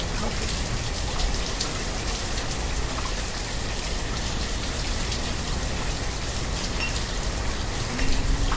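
Rain in a village-building video game, a steady dense hiss of falling drops that holds at an even level throughout, with no speech.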